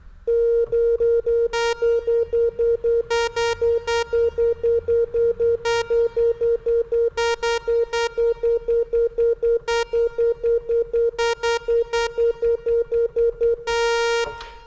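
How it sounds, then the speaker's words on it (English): A Korg synthesizer's vector oscillator holds a steady pitched tone that stays mostly a pure sine wave, briefly brightening into buzzy sawtooth-like bursts at irregular moments, loud and alone. "what we'll hear is just a change between sine wave and sawtooth, but most of the time we'll be hearing a sine wave"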